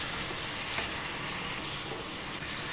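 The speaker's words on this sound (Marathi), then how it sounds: "आपण पालक छान तेलात परतून घ्यायची" Spinach sautéing in hot oil in a pan, giving a steady, loud, continuous sizzle with no pauses throughout.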